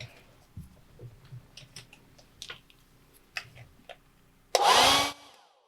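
A hair dryer blows on a wet watercolor painting of a koala, switching on loud and steady for about a second after scattered light clicks and taps of brushwork and handling.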